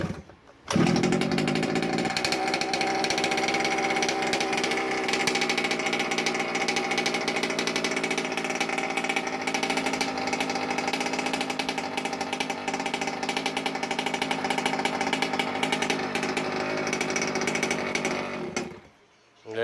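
Gas engine of a Losi 5ive large-scale RC car starts on one pull and runs steadily at a loud, buzzing idle for nearly twenty seconds before cutting off abruptly at the end.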